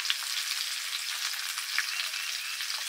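Potatoes and cauliflower sautéing in a hot pan, a steady close sizzle of frying with faint stirring clicks, no voices.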